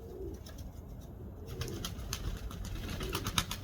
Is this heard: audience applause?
no